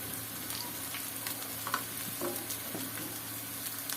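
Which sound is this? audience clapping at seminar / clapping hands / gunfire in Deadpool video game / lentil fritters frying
lentil fritters frying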